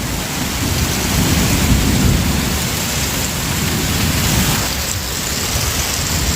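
Heavy rain pours steadily with strong wind gusts during a thunderstorm, a dense continuous roar of water and rumbling thunder underneath.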